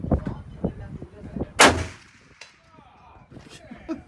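A single loud, sharp gunshot from a pre-64 Winchester Model 70 rifle in .375 H&H, with a ringing tail and faint echo, while people talk quietly before and after.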